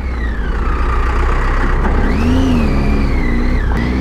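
A truck passes close on a mountain road near Baralacha La pass, its engine droning loudly with a rising and falling pitch as it goes by, over wind and a nearby motorcycle engine.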